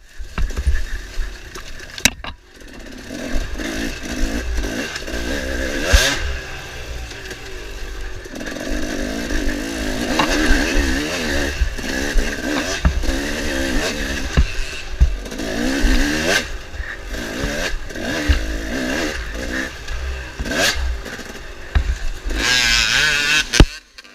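Dirt motorcycles race through a harescramble at Thunder Ridge in a WNYOA round, their engines snarling and revving continuously, rising and falling as bikes pass near and then fade into the woods.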